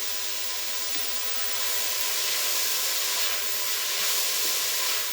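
Red onions caramelising in a pan for chutney make a continuous soft sizzle and hiss that swells slightly midway and holds steady throughout.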